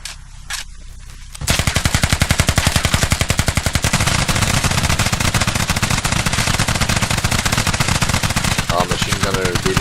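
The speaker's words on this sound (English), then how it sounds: "Machine gunner dealing some nice heavy damage on the opposite side of the room." Machine gun fire during close-quarters room fighting in a video game on the Al Basrah map, a sustained, loud, rapid automatic stream starting abruptly after a quiet moment and continuing almost unbroken to the end.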